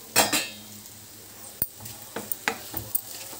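Boiled eggs drop into masala in a pan over a low flame, giving a couple of loud clattering impacts up front, followed by scattered metallic clinks and light scraping of the utensil against the pan.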